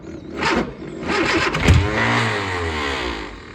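A classic Austin Mini Cooper engine that struggles to start cranks briefly, catches and revs up, settling into a rough mid-pitched drone close by with no talk over it.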